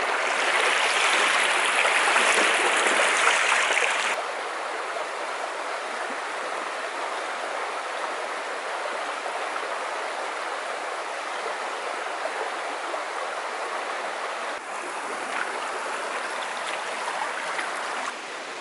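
River stream flowing with a continuous, close rush of water, somewhat louder in the first few seconds before settling into a steady wash, with no talking.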